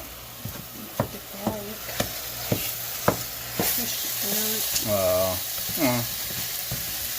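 Meat, with chopped onions, cooking in a pan for a spaghetti dinner: a steady background sizzle punctuated by regular sharp taps of a utensil chopping and stirring, with brief voiced sounds near the end.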